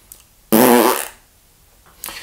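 A didgeridoo player raises the jaw to break the lips, giving one loud, buzzy, flatulent lip burst of about half a second, with a quieter start of a second burst at the end.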